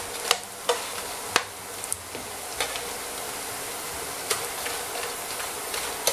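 Bread croutons frying in a pan for a potato-leek soup, a steady close sizzle broken by occasional light stirring clicks and scrapes, without talking.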